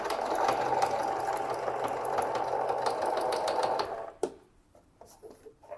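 Sewing machine stitching a seam on a bucket bag: steady, close mechanical whir for about four seconds, then a sharp clunk as it stops, followed by a few faint handling sounds.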